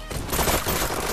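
Gunshots in the video game HyperDash ring out as a loud, dense volley of rapid shots packed together for about a second, with no talk over them.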